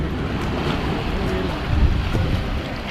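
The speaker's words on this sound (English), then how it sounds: "Listening to the sound of the water, the waves lapping on the shore." Waves lapping against the shore at Sky Reef beach in Cozumel, a continuous soft wash with low rumble and wind buffeting the microphone, brief and without distinct breaks.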